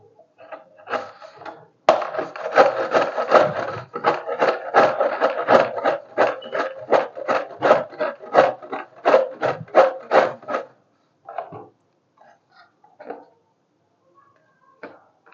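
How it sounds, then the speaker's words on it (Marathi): Raw green mango being grated on a hand grater for sweet-sour chunda, a close run of rhythmic rasping strokes, about two per second, that pauses and ends with a few scattered scrapes. "चला तर मी कैरी किसून घेते सगळी"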